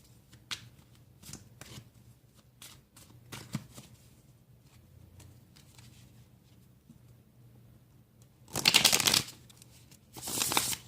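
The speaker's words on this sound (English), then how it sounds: "let's pull a couple of tarot cards as clarifiers to help us deepen this message" Tarot cards are handled and shuffled at close range, soft scattered taps and slides, then two loud riffling bursts as the deck is shuffled, with no talk.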